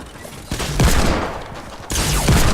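Shotgun fire and explosive bursts in Fortnite, loud and close, with several heavy blasts over a dense, noisy game mix and no clear talking.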